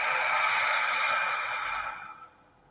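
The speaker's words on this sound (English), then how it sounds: "Let's breathe that out." A single long, deep exhale of breath, close and breathy, steady for about two seconds and then fading out, with no talking over it.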